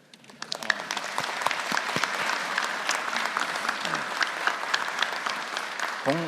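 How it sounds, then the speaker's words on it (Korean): An audience at a South Korean government ministry work-report meeting breaks into applause that swells quickly and then holds as dense, steady clapping, with a voice briefly heard near the end. "여기 또 박수 한번 쳐드릴까요?"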